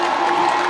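Fans cheer and applaud for a singer at a live Hyeonin song festival, a steady, dense crowd roar filling the whole brief moment.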